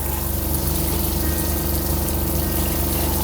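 Steady, even rush of liquid running from an RV shower faucet as pink antifreeze is pushed through the lines of a toy hauler, with a constant pump-like hum beneath, continuous and close.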